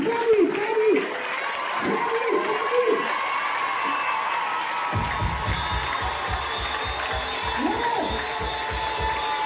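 An audience at a church gathering claps in a steady patter over a loud voice speaking, the applause continuing under the talk throughout.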